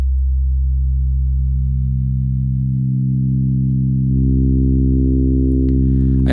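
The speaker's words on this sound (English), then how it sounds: "I want a nice sub bass sound because I think FM sounds really good with bassy FM sounds" A deep, steady FM synthesizer sub bass note holds alone with a strong fundamental and stacked harmonics, swelling slightly near the end before a faint click, no voice present.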